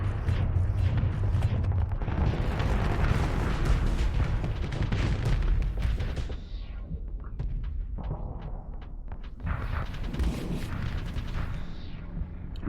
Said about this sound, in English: just blow this thing up